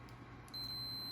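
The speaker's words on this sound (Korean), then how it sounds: "부저가 울려요." A HIOKI 3244-60 pocket multimeter in continuity-test mode gives a steady, high electronic buzzer tone that starts partway through and holds, close and fairly loud over a low background hum.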